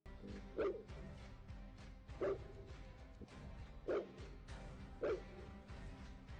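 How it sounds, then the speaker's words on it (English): Farm dogs bark at night to warn off coyotes, giving four loud, evenly spaced barks or woofs over steady low background noise. "Their loud barking serves as a warning, which successfully stops the coyotes from howling and approaching closer."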